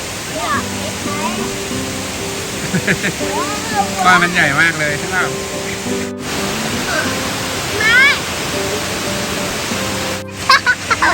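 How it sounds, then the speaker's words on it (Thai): Mae Phun waterfall in Uttaradit roars as a loud, steady broadband rush, with voices and brief bursts of chatter from people nearby rising over the water. "อันนี้น้ำตกแม่พูน"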